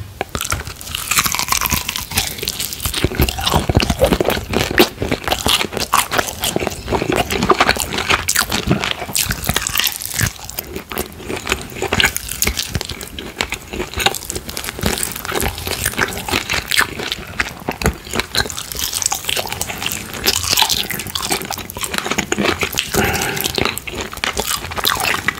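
Close-up eating of crunchy chanterelle mushrooms alongside potatoes and chicken, with dense, continuous wet crunching, biting and chewing right at the mic for the whole stretch.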